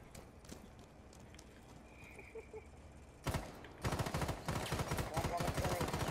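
Rapid gunfire bursts from Rainbow Six Siege, in a casual shotgun-rush match defending with a shield team, kicking in loudly after a quieter stretch and continuing densely to the end, with a single earlier burst midway.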